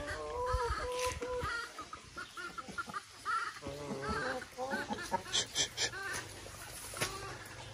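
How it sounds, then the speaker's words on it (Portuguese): A plump hen on a backyard poultry farm clucks in short repeated bursts at close range, mixed with other chickens and someone talking over much of it. "Gorda, gente, essa galinha aqui."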